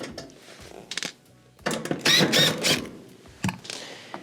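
Two Phillips screws being removed from the bottom middle panel at the back of a Whirlpool stove: scattered close metallic clicks and rattles, with a louder clattering burst near the middle and a final sharp knock.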